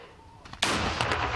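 Soldiers fire their weapons in combat, with a distant crack followed by a loud close shot and a second blast, all booming with reverberation.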